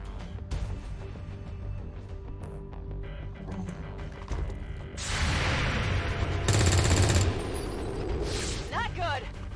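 Gunfire in an XCOM 2 firefight, Long War of the Chosen mod. Someone talks over scattered game sounds, then loud bursts of rapid shots break out in the second half, with a short sharp sweep of effects near the end.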